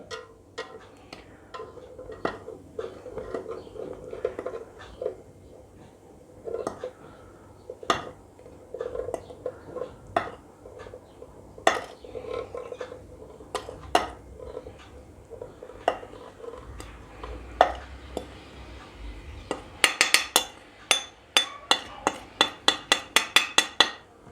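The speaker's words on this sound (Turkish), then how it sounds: "Şimdi bunu hazneme dikkatli bir şekilde dökeceğim." Spelt flour being poured into a bread machine pan and scraped with a spoon, soft rustling under scattered metallic clinks and taps, ending in a quick run of sharp, close spoon strikes against the pan.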